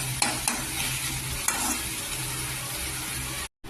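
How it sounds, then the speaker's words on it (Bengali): Spinach greens fry in a pan with a steady close sizzle and a few sharp stirring knocks early on, then cut off abruptly near the end; no voices. "শাক ভাজাটা হয়ে গেছে, এবার হচ্ছে মাছ ভাজা হবে।"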